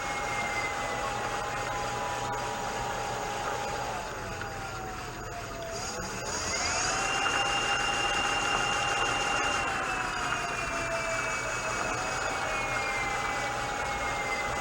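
Electric moped motor whining under throttle, its tone sliding down as the throttle rolls off and climbing again as it opens up, a steady near whine over a noisy background.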